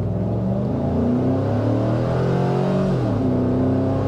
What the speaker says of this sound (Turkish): şurada bir gazlayalım arkadaşlar. Bakalım Escalade nasıl gidiyor.